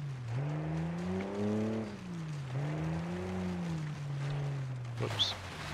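A truck in the BeamNG driving game runs with a steady engine drone, rising and falling in pitch as it revs and shifts, close and even throughout with a short scrape near the end.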